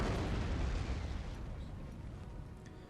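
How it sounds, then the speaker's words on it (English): Napoleon Total War artillery fires on retreating British soldiers: a continuous low rumbling roar of booms and blasts that fades slightly, with no distinct separate shots standing out. "I have my artillery still firing on the retreating British soldiers here"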